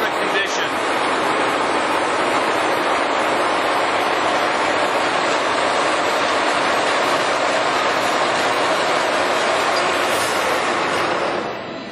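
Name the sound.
Giddings & Lewis 340T horizontal boring mill running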